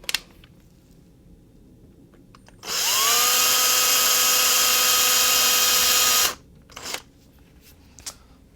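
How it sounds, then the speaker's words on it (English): A loud, steady drill whine runs for several seconds while drilling into a bamboo art panel, starting and stopping abruptly, with quiet handling noises before and after. "holding the drill perpendicular to the panel, go ahead and drill"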